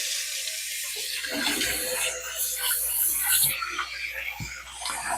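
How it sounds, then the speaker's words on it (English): Cold tap water running steadily into rice as it is rinsed in a kitchen sink, a continuous close splashing hiss with brief swishes and thumps as the grains are stirred. "Rinsing the rice, rinsing the rice, rinsing the rice."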